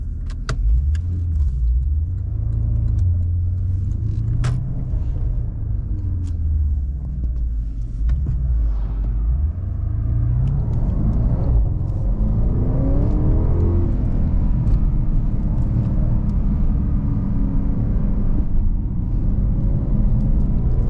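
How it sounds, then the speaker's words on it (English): A 2016 Porsche Panamera Turbo engine drones loud and steady from inside the cabin on a test drive, a deep rumbling hum that wavers with speed and then climbs in pitch as the car accelerates, with faint rattles and no talking. "go for a test drive and see what this Porche Panamera Turbo is like."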